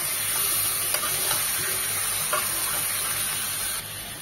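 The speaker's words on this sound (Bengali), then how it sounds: "পেঁয়াজ আর তেলের সাথে চিকেনটাকে এভাবে ভালোভাবে ভেজে নেব, মিনিমাম 3 থেকে 4 মিনিট।" Chicken fries with onion in oil in a pan for a chicken curry, a steady close sizzle with a couple of faint stirring clinks and no voices.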